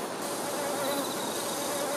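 Worker honey bees flying out of the beehive to forage make a continuous dense buzzing hum, steady and fairly loud throughout.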